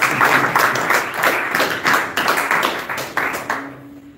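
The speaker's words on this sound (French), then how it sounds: "Applaudissons pour lui" An audience claps in a steady, slightly uneven rhythm of distinct hand claps, close and moderately loud, fading out near the end.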